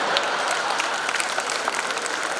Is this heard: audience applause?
yes